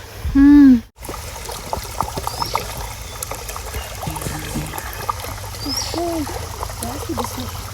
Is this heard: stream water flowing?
yes